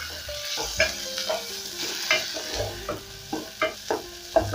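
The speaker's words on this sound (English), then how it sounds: "I'm going to cook my onions till they start turning translucent" Onions stir-frying in a pan for beef stew, with a steady sizzle and repeated scraping stirs of a spoon every second or so, close and fairly loud.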